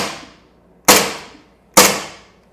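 A PT-92BK airsoft pistol firing through a chronograph: three sharp, loud cracks evenly spaced, each with a short decaying tail and nothing else in between.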